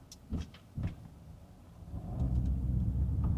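Two soft thumps as a 2013 Mercedes-Benz SL 63 AMG rolls over a speed bump, followed by a rising low engine rumble as it drives on.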